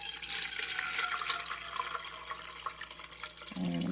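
Homemade chicken broth is poured through cheesecloth set over a colander. A steady splashing stream of liquid runs for several seconds, close by, and ends in a low thump.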